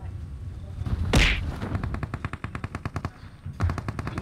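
Rapid bursts of pistol gunfire in PUBG Mobile, a loud single shot followed by quick repeated pops in a steady rhythm, close and punchy.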